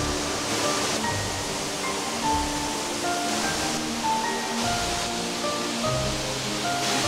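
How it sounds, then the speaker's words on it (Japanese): Oshinkoshin Falls in Shiretoko, Hokkaido, pours with heavy spray, a loud, dense, continuous roar of rushing water heard close up with no voices. "新越の滝流れてる。 すごい音。 すごい水しぶき。"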